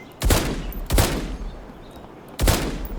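Gunshots fired at a locked research facility door in the survival game HumanitZ, three loud, heavy blasts, two close together and a third after a pause, each with a rumbling decay.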